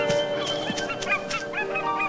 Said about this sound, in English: The ducks and geese head south.